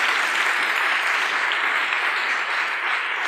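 A conference audience at a FuckUp Night event in Prague applauds the speakers, a steady, even wash of many hands clapping, close and sustained without break.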